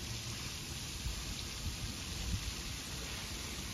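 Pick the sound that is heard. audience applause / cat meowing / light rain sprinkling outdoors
light rain sprinkling outdoors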